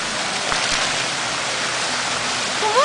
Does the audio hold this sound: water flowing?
yes